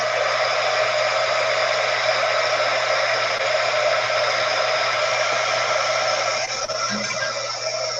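A hair dryer blows steadily on wet watercolor paint, a loud continuous whirring hum with a faint shift near the end.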